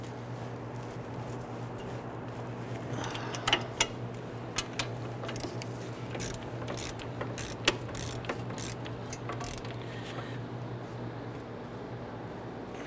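A ratchet snugs down the hub assembly bolts on a Nissan Quest, with rapid metallic ticking in bursts over a steady low hum, close and fairly quiet.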